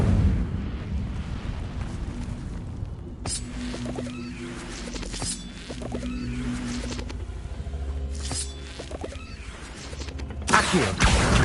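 An Incendio fire spell cast in Hogwarts Legacy roars as a sustained whooshing, crackling blaze, with surging bursts of flame and a louder flare near the end.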